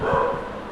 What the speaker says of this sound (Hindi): अबे कुत्ते भौंक रहे हैं यार